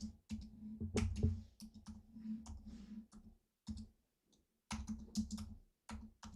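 Typing on a computer keyboard near a microphone, bursts of rapid clicking keystrokes separated by short pauses.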